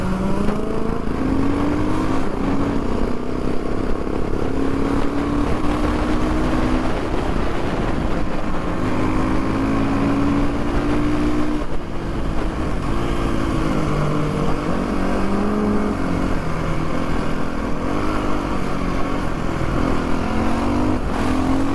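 Motorcycles on a group ride, among them a CF450, CBR650 and VR150, drone loudly and continuously from close by, with engine pitch rising and falling through gear changes and revs as bikes overtake, and no talking.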